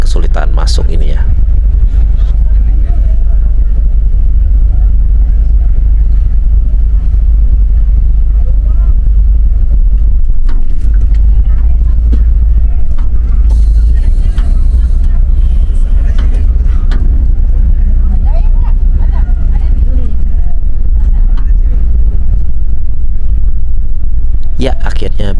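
A double decker Adhi Prima coach bus creeps aboard a ferry ship with a heavy, steady low engine rumble that persists at close range, with voices talking over it.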